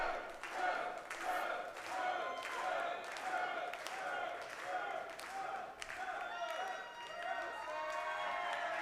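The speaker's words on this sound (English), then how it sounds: "Jordan Cruz getting excellent response from the crowd" A crowd at a live lucha libre wrestling show cheers and shouts steadily, with clapping and thuds, and a commentator talks over the noise.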